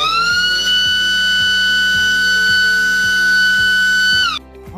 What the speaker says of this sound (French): le ronfleur qui signale le fonctionnement du moteur